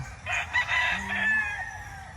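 Chickens on a rainy Filipino farm give a rooster's crow and soft clucks, close and moderately loud over a steady wet background.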